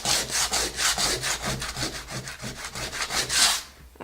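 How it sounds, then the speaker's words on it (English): Rough-grit sandpaper, folded up, scrubs back and forth across a wooden surface in steady rhythmic strokes, about eight passes close up with a dry rasping texture and no voices. "Using really rough grit sandpaper,"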